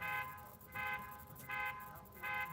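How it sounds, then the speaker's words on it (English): A car alarm goes off at a distance during a hot-tent camping session. It gives four evenly spaced, buzzy honking pulses, faint and steady under a quiet outdoor background. "Somebody's alarm."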